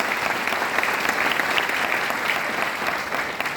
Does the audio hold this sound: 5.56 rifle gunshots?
no